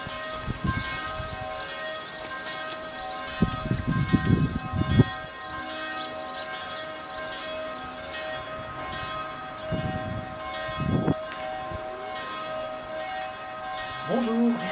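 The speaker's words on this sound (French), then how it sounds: "Mince, les cloches." Church bells ring steadily in the background of a Swiss village market-day service, sustained overlapping tones under scattered nearby thumps and a few voices.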